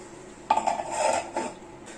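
Vegetable thoran stirred in a metal pan, with a few short clattering scrapes and clinks of a spoon against the pan, close and brief, with quiet moments between.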